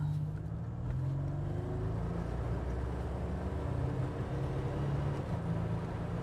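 A 1987 Buick GNX turbo engine heard from inside while driving, a steady low engine drone with a faint rising turbo whine over road noise, continuous and moderately loud.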